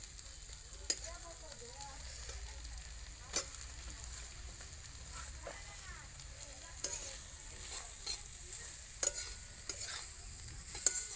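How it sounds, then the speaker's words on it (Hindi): Grated radish (mooli) goes into softened onion in a hot pan and fries with a soft, steady sizzle, broken by repeated scraping and clinking of a stirring spoon at close range. "अब इसके हम मुरई डाल देते हैं।"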